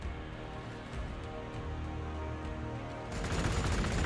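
Gunfire from units shooting in the Warhammer 40k Gladius video game, a dense continuous battle roar of overlapping shots that grows louder and brighter toward the end.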